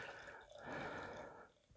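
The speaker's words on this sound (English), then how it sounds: "Anyway, give it a pour here." Frontside Lipslide double IPA from Pizza Boy Brewing being poured into a glass, a steady close liquid splash and fizz that swells in the middle and tapers off, with no talking.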